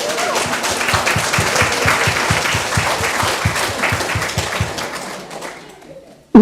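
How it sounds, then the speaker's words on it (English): An audience gives a round of applause for the Dolphins: loud, brisk clapping with distinct hand strikes, sustained for several seconds before tapering and cutting off abruptly. "So let's have a round of applause for the Dolphins."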